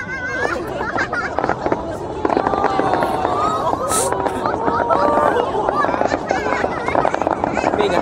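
New Year fireworks over Seoul for 2018 pop and crackle steadily under a noisy crowd, with people talking nearby throughout.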